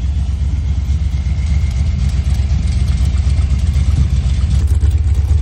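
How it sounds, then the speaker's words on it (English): A 350 V8 idles steadily at around 900 RPM, a loud, even low rumble that runs unbroken close by with no talk. "It's only idling around 900 RPM."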